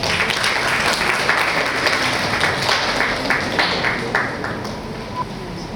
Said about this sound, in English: Let us welcome them with a round of applause.